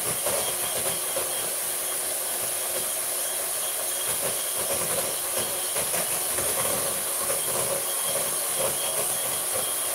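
Cake batter being whisked vigorously in a hot kitchen produces a continuous, fairly faint hissing, scraping whir that holds steady throughout with no speech.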